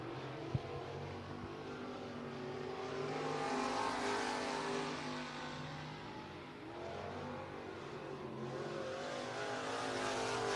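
Race car engines roar continuously around the I-75 Raceway track in Niota, Tennessee, a loud sustained drone that swells and fades slightly as cars pass, with no voices.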